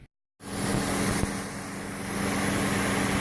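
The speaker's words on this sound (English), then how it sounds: "As you can see, the engine runs just fine." A Toyota Prius engine runs after a 12V battery wire fix, starting from a brief silence into a steady, even mechanical hum that holds close and constant to the end.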